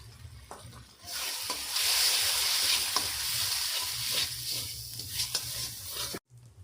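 Ground poppy seeds and peanuts hit a hot pan, bursting into a loud, steady sizzle that holds for several seconds while a utensil stirs with faint scrapes, then the sound cuts off abruptly.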